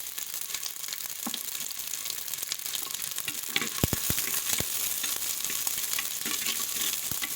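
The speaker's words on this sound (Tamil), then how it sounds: "இப்போ முழு பல்லு பூண்டு உரிச்சு வச்சோம்ல, அதுவும் முழு வெங்காயத்தையும் சேர்த்து போட்டு வதக்குவோங்க." Whole peeled garlic cloves and whole onions sautéing in a hot pan, a continuous bright sizzle with a few sharp crackles and spatula knocks, close up and without speech.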